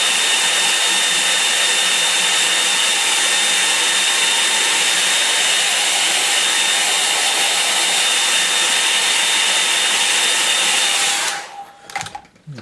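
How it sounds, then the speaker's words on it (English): Loud, constant whir of a hair dryer blowing on wet watercolour paint, running steadily for about eleven seconds before switching off and spinning down, followed by faint handling noises. "I'm just going to dry that bit off there"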